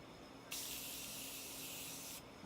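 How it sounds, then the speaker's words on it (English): A single sustained hiss of makeup setting spray, close and steady, lasting under two seconds before cutting off in an otherwise quiet room. "I'm gonna use my Morphe setting spray."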